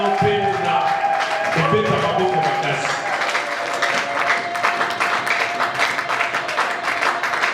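A congregation at a Sunday church service claps and cheers, with raised voices and shouts over the applause at first. Dense, rhythmic clapping then carries on steadily at a lively level.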